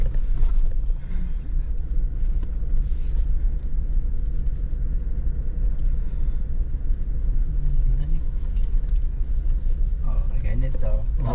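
A car rolls along a rough off-road track on a road trip near Iba, its low steady rumble and cabin noise constant and loud, with people chatting over it.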